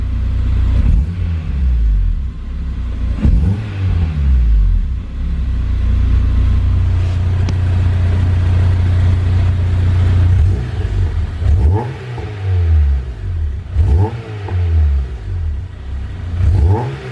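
From the driver's seat of a car, a deep engine rumbles and revs up repeatedly in surges, with a low steady drone between the bursts.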